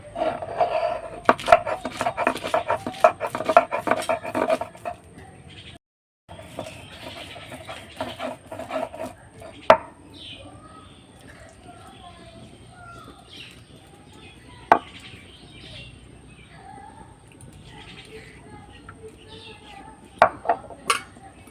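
Cashews being ground into a paste by hand, rapid rhythmic scraping strokes close up for several seconds, then sparser knocks and rubbing sounds with faint background noise.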